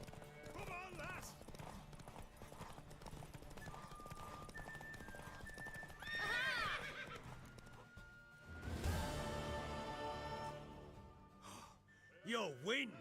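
A horse in The Witcher 3 clip-clops and whinnies amid game sounds, with hoofbeats, a neigh and snorting heard under talking voices.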